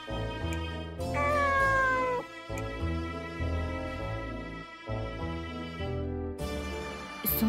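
A cat meows in the video game Nights of Azure, a few drawn-out, rising meows over steady background game music, fairly loud and close, with no talk.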